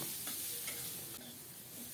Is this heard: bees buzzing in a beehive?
no